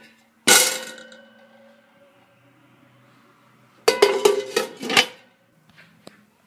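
Two T-fal skillets, one lidded, clang loudly once with a ringing decay, then several quick metallic clanks and rattles follow as the pans are handled in a resale shop, with a faint clink near the end.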